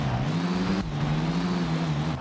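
A car driving in the PS2 skateboarding game Tony Hawk's Underground (2003) gives a steady, close engine hum with a slight rise and dip in pitch, playing alone and continuously.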